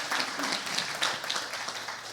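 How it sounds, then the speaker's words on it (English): Brief burst of audience clapping at a pitch showcase event, moderately loud and steady for about two seconds, with no talk. "Let me get a round of applause."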